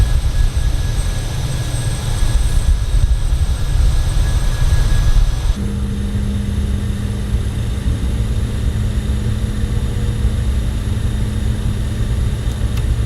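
A jet's engines roar in Microsoft Flight Simulator as the aircraft slowly speeds up for takeoff on a runway in Uganda: a loud, constant drone with a steady whine whose tone shifts partway through, and no voices.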